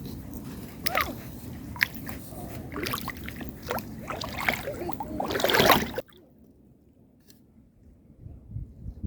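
Feet wade through cold shallow water outdoors, with close sloshing, splashing and squishing steps in an uneven rhythm that cut off abruptly into faint quiet water sounds.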